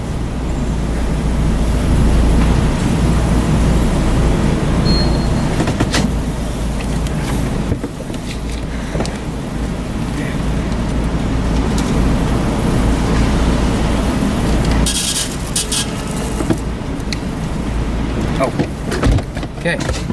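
A car reverses in a hospital parking lot, with a steady, loud engine and road rumble running throughout and a few clunks near the end, while people talk over it.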